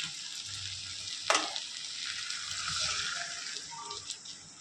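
Vegetables frying in a pan for Tamil kuzhambu, a steady close sizzle with a sharp crackle burst and light stirring scrapes, no talking.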